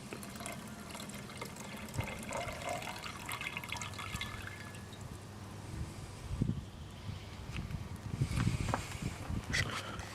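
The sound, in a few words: pouring solution off gold mud from a beaker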